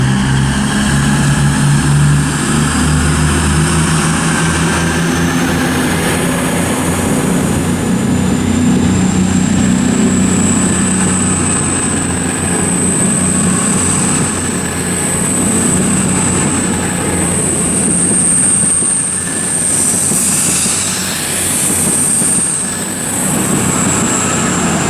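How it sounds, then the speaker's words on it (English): A CrossCountry Voyager train, unit 221131, passes through Birmingham International station with a loud, continuous rumble, low engine tones and a high rising wheel whine. Near the end the sound swells and then eases slightly. "the 10:38 cross-country service from Oxford to Manchester Piccadilly"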